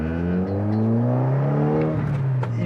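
A modified 460bhp Audi S3 engine pulls hard under acceleration, a loud, steady, rising drone with stacked harmonics climbing in pitch through the rev range, heard from inside the car with no talking.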